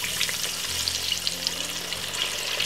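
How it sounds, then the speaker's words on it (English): Fish fries in hot oil in a frying pan, a dense steady sizzle and crackle heard close up and fairly loud, with no talk. "I'm gonna just pop the fish in it and I'm gonna fry it for roughly about a good 12 to 15 minutes"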